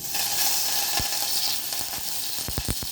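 Curry leaves sizzle and crackle in hot ghee for a mustard-seed and asafoetida tempering in a traditional Konkan dish, a steady close frying hiss with a few sharp pops near the end.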